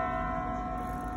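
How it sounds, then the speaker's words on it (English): Steady ringing of a church bell in Reykjavik, sustained tones sounding continuously and fairly loud, with no voices present. "So that's the church bells ringing from this amazing church."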